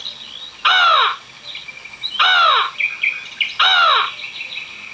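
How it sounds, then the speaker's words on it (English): Three loud, harsh crow caws spaced about a second and a half apart, close by, with faint background noise between them. "That's a crow."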